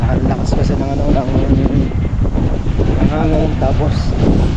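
Strong wind roars across the microphone aboard a boat at sea, a loud constant rush with a low rumble of water and hull, and someone speaks over it.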